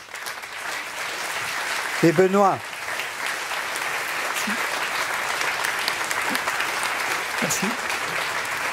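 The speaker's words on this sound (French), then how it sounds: "On peut applaudir Bobin" An audience at a Holy Saturday celebration applauds in steady, full clapping that runs the whole length. A brief spoken thanks comes over it early on.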